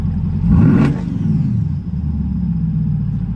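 A supercharged C8 Corvette with a Magnusson Lingenfelter Stage 1 kit revs once, loud and close, then drops back to a deep, steady idle rumble.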